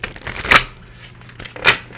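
Tarot cards are shuffled in two short riffling bursts about a second apart, close and crisp with soft handling noise between them.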